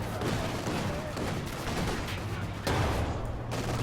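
Battle din from a Company of Heroes 2 match, with an anti-tank gun firing amid dense ongoing gunfire and explosions, a heavy boom standing out near the end.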